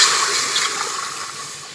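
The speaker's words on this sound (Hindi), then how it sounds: "कुकर को हमने दोबारा चढ़ा लिया है दोस्तों। तो इसमें हम डालेंगे पानी को।" Water pours steadily into a pressure cooker set back on the stove, a continuous close splashing hiss that stays even from start to finish with no voices.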